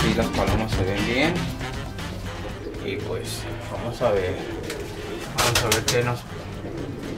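Pigeons in a racing-pigeon loft give low, soft coos and rustles, with someone talking in Spanish over them most of the time.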